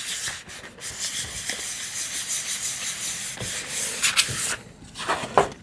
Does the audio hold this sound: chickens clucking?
no